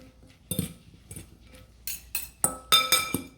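A utensil stirs salad dressing with balsamic vinegar in a bowl, giving several light clinks and taps that grow busier toward the end, close by and alone.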